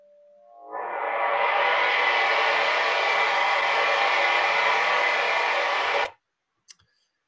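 A simulated gong sound: a dense, steady synthetic roar swells in over the first second, holds loud and broadband like rushing turbulent noise, then cuts off abruptly, followed by two faint clicks.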